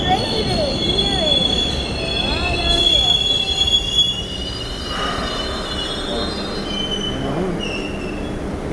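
Orange Line subway train pulling into Malden Center station, wheels squealing in long, high, wavering tones over a rumbling rail roar that eases as the train slows. Voices are heard nearby.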